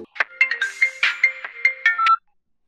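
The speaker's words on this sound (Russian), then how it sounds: "Как мне снова раздается звонок." A telephone rings with a melodic ringtone, a short bright tune of about nine quick notes. It plays loud and alone, then stops abruptly into silence.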